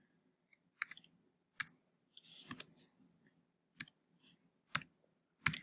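Computer mouse clicking while an email is edited, sharp isolated clicks arriving irregularly in small bursts, close and fairly faint with no talking.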